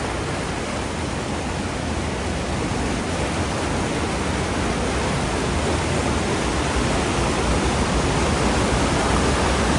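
Water rushes through a fish ladder at a river dam in a continuous, loud, broadband roar. It stays steady and close for about ten seconds with no voices.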